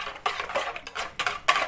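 Scraping and clinking of a spoon against a pot as a bulgur mixture with warm soup liquid is stirred for purslane soup, in a few uneven bursts, close by.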